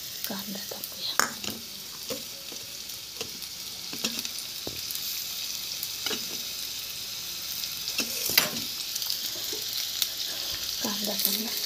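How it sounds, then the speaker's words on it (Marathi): Onion sizzles and fries in hot oil, a steady crackling hiss broken by occasional scraping and tapping from a utensil in the pan, heard up close. "तेल तापलं, चांगलं तापलं आहे. आपण कांदा टाकूया."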